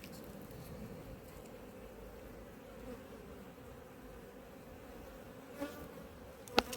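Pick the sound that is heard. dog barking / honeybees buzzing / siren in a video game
honeybees buzzing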